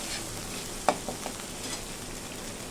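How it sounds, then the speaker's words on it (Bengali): Ginger paste frying in oil in a pan, a continuous moderate sizzle with a sharp spoon clink near the start and a few softer stirring taps, no voices. "আদা বাটা তেলের সঙ্গে একটু ভেজে নিলাম ভালো করে"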